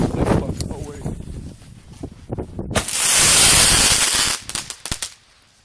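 A dragon firework goes off outdoors with crackling pops, then a loud sustained hissing roar for over a second, ending in a few sharp bangs, close and loud, with voices talking and exclaiming throughout.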